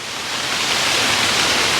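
Scott's Falls, a small waterfall at Pictured Rocks in Michigan, gives a steady broadband rushing hiss that swells slightly in the first moment, then holds constant and close, with no voices.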